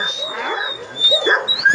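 A wolf growls and snarls at close range while a person treats its injured legs, with rough, rising and falling vocalizations over roughly two seconds and no talk.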